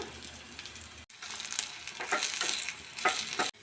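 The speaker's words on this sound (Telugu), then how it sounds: "ఆనియన్ బాగా ఫ్రై అయింది చూడండి." Onion frying in hot oil with spices, garlic and curry leaves for a tempering, a steady close sizzle with stirring scrapes, briefly cut off near the start and again at the end.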